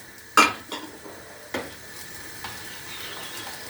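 Cheese with spices being stirred in a pot, a sharp spoon clink at the start followed by a few sparse scrapes over a faint steady background.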